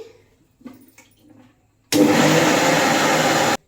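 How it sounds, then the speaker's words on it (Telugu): A kitchen mixer grinder grinds sugar in one loud, steady whirring burst of under two seconds. Soft handling clatter comes just before it starts, and the burst stops abruptly. "ఇదైతే మిక్సీ పడుతున్నానండి"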